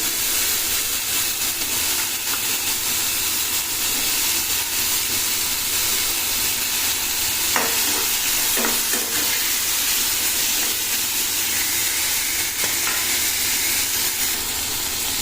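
Loud, continuous sizzling and hissing of potatoes frying in oil, broad and steady throughout with a few faint clinks.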